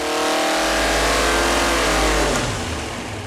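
A small block Chevy V8 roars at full load during a dyno pull, loud and close, with a rich harmonic drone that holds strong and then drops away as the run ends.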